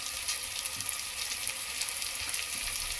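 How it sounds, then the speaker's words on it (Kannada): Chopped green chilies fry in a pan for khichdi, giving a steady, even sizzling hiss with faint crackles throughout, fairly soft and close, with no voices. "ಈಗ ಇದೆಲ್ಲ ನೀಟಾಗಿ ಫ್ರೈ ಆಗಲಿ"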